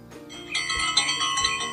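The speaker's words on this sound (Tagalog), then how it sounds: "Ayan, may bell dyan." A bell sound effect from a video editor's sound effect library rings out clearly, a bright metallic ding with sustained ringing tones and a couple of repeated strikes, heard alone without talking.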